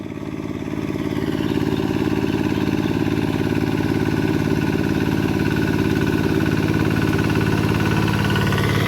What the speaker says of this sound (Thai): เป็นรถสูบเดียว จะใช้เครื่องยันมาคูเบต้าอะไรก็ได้ทุกคน ใช้ดีเซล